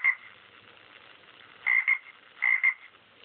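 Frogs croak in a steady nearby chorus, with a few louder paired calls standing out. No one speaks.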